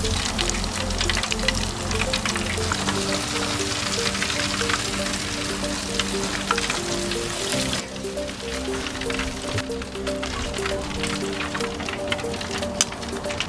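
Frozen steak deep frying in hot oil gives a loud, steady, close bubbling hiss with a constant low hum underneath, unbroken from start to end.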